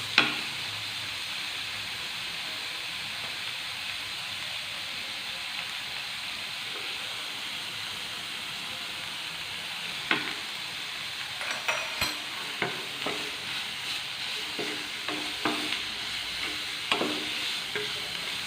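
Onions with added salt sauté in a pan, giving a soft, steady sizzling hiss with no voices. Scattered stirring scrapes and clicks come in during the second half.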